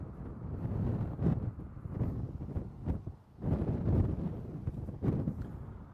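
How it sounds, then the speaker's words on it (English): Strong gusty wind during a wildfire on Christie Mountain by Skaha Lake buffets the microphone with a deep, roaring rumble that surges and eases in waves throughout, with no voices. "an extremely windy day today"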